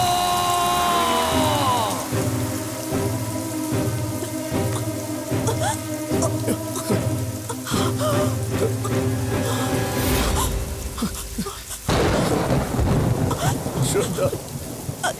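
Steady rain falls with rumbles of thunder in a dramatic film scene, largely buried under a swelling musical score that shifts into a noisier, harsher wash near the end.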